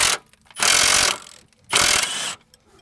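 A socket wrench on a 15 mm socket and 1/2 inch extension works a Jeep Grand Cherokee control arm bolt, giving two loud, close bursts of rapid ratcheting clicks separated by a brief pause.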